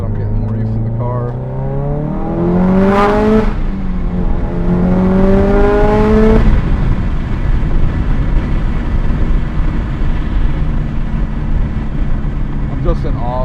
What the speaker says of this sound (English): I'm just in awe with how this car sounds.